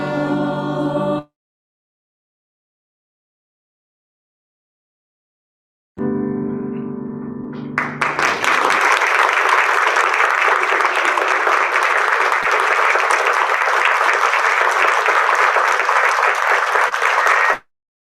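Applause from the audience at a Board of Education meeting breaks out after a brief passage of singing and stays steady and full for about ten seconds, many hands clapping close together before it stops abruptly.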